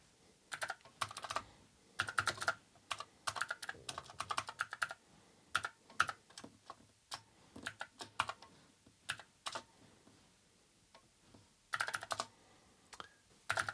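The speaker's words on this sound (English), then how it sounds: "Types much nicer than the original mushy Amiga keyboards." Quick bursts of keystrokes clatter on a mechanical keyboard fitted to an Amiga 1200, crisp clicky presses arriving in uneven clusters with short pauses between, close and fairly quiet, no voices.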